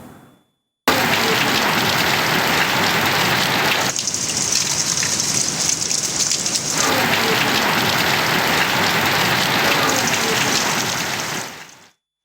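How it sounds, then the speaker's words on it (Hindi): Heavy rain pours steadily during a thunderstorm, a dense continuous wash of falling water that stays loud and close from start to finish, with no talk over it. "2 रोज से गरज चमक के साथ तेज बारिश का सिलसिला जारी है"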